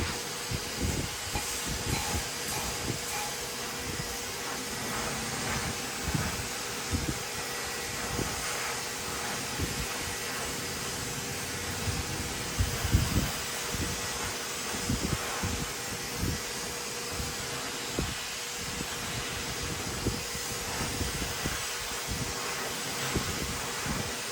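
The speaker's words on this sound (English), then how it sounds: "I'm using the blow dry to actually blow dry his hair into place" A hair blow dryer runs steadily through a men's comb-over styling, pushing the hair into place with a constant airy roar and hiss, close and unbroken for the whole stretch.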